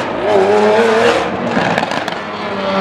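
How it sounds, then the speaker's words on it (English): A loud Lamborghini Aventador engine roars steadily at close range, a sustained high-revving blare with a brief crackling burst partway through. "we got one of the loudest Aventadors right here"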